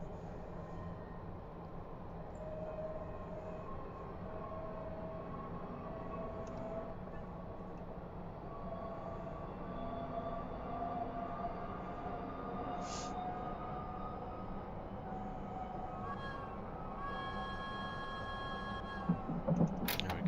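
Train running on rails in a train simulator game, a steady low rumble with a continuous hum and faint tonal whine throughout, a brief higher tone partway through, moderately loud.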